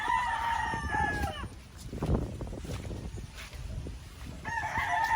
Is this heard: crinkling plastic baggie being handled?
no